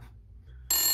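Near the end of a short, quiet stretch, a telephone starts ringing for an incoming call with a sudden, bright electronic ringtone. Only a low hum comes before it.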